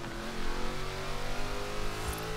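A Bentley built as a drift car in Forza Horizon 4 holds a steady, close engine drone with layered harmonic whine, rising and falling slightly as it revs, with no talk over it.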